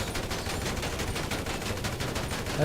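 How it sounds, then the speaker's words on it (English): Rapid gunfire from a Grand Theft Auto game, aimed at the wheel of a Toyota Supra, keeps up a dense, continuous crackle of shots that stays loud from start to finish. "if you just shoot it right in the center of the wheel cap, it will drop twice"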